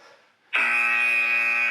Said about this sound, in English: Go until the buzzer.